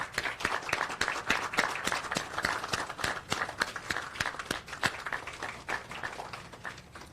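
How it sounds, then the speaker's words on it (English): An audience at a ceremony honoring families of fallen service members applauds, a steady patter of individual claps spread across the room, moderately distant and sustained throughout. "We stand for applause."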